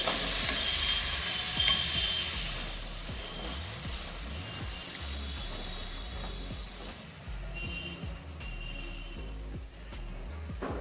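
Potatoes and spices frying in oil in a wok, a steady close sizzle with scraping stirring strokes throughout, no voices.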